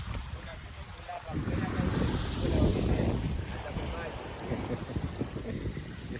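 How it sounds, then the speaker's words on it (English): Ocean waves and gusting wind at a beach in Mombasa, Kenya, with surf surging and washing in and strong wind buffeting the microphone, loud and close. "We are at the beach again, at the ocean"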